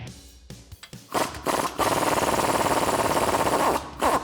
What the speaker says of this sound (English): So I'm using a 15mm socket. I'm just going to go ahead and remove this bolt.